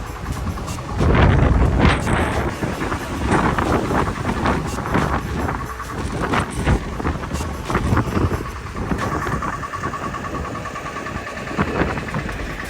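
Strong wind and rain buffet the microphone in a loud, steady roar with gusty surges in Munnar, an engine rumbling faintly beneath.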